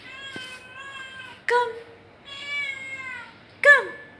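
A stray cat in Bahrain meows three times, close and clear, with drawn-out tonal cries and a sharper final call.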